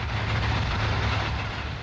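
A passenger train on the rail journey to Cairo, Egypt, gives a loud, steady, close rumble of carriages rolling along the tracks with no pause.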